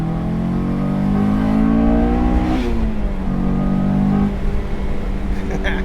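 A Honda S2000 sports car engine revs loud and close, the pitch climbing and dropping through gear changes with a steady rough drone.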